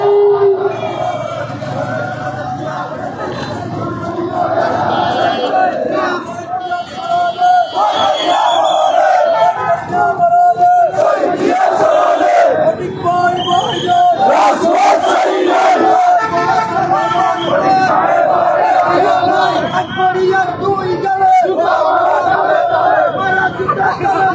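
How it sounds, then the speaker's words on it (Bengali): A large street procession crowd in Dagonbhuiyan chants slogans loudly and continuously, a dense mass of raised voices with rhythmic shouted calls filling the whole stretch at close range. "একটি অংশের একটা বড় মিছিল আসছে"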